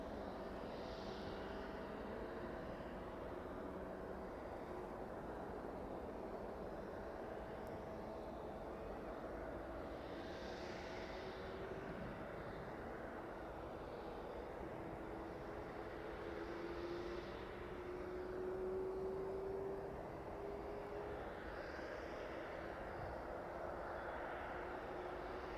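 A Boeing 777 airliner arrives at East Midlands Airport with a faint, distant jet rumble that swells and fades slowly over a steady airport background.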